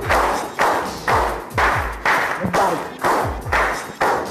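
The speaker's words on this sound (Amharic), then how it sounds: "ሞቅ ባለ ጭብጨባ ወደ ሜዳ" Rhythmic clapping for a player walking on at a family party game: about eight sharp, evenly spaced claps with dull thuds, close and loud, each fading quickly before the next.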